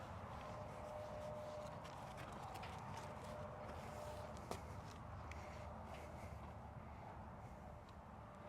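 A yearling horse moves around a round pen during groundwork, its hooves giving a faint, steady shuffling of footfalls over a constant low background, with one brief knock midway.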